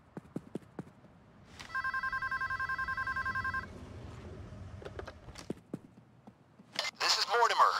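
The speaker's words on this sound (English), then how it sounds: "Answer the phone and pass me through." In the video game PAYDAY 2, during a stealth bank heist, a telephone rings with a sustained electronic trill for about two seconds, surrounded by scattered footsteps and clicks, then a burst of noisy activity near the end.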